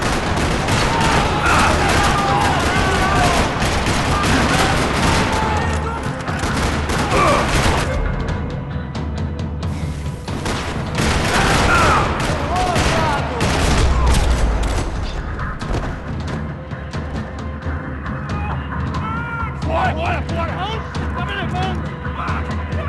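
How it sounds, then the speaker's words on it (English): Sustained gunfire rattles through a parking lot in Max Payne 3, dense bursts and booms filling the scene loudly and continuously alongside a game soundtrack, with speech over parts of it. "Another parking lot rattling with gunfire."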